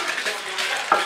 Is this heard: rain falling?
no